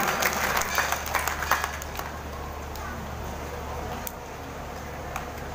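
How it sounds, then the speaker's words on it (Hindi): A village crowd at a Janmashtami temple celebration claps loudly at first, the applause trailing off into a murmuring background with a low hum. "भाई जोरदार ताली।"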